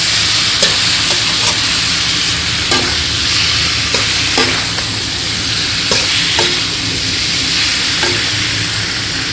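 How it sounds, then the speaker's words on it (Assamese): Chicken cooked with little masala fries in oil in a pan, giving a loud, steady sizzle with scattered scrapes and clicks as a spoon stirs it at close range. "এতিয়া এইখিনি ধুনীয়াকৈ ভাজি ল'ম।"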